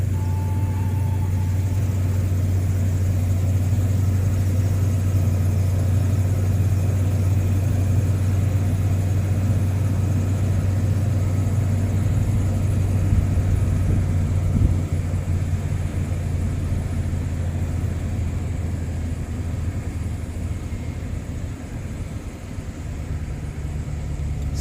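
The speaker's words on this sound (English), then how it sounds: "It sounds like it's an exhaust leak." Steady low rumble of an idling 2015 Dodge Ram 2500 5.7L engine with an exhaust leak, close and constant, with a faint rough puffing in the drone and no talk.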